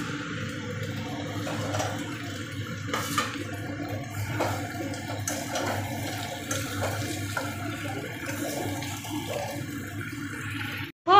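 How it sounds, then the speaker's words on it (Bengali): Water is poured into a pot of meat, giving a continuous, fairly loud gushing and splashing stream for about eleven seconds that cuts off abruptly near the end. "ও আমি মাংসটার ভিতরে এখন জল ঢেলে দিয়ে দিয়েছি"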